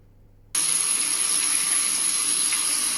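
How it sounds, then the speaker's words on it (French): After a brief quiet moment, a hair dryer switches on and blows steadily with a loud, even whooshing roar and a thin high whine. "Juste avec un petit coup de sèche-cheveux."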